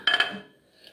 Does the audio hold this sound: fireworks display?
no